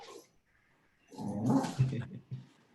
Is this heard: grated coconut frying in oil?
no